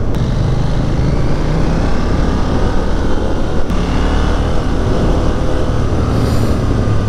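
A 2021 KTM Duke 890 motorcycle engine pulling under throttle, a loud steady drone mixed with heavy wind rush, sustained the whole time with no talk.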